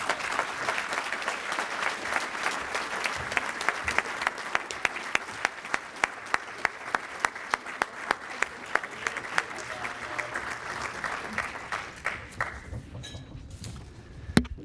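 Sustained audience applause at a Rotary scholars luncheon, many hands clapping steadily for over ten seconds before thinning out to a few scattered claps.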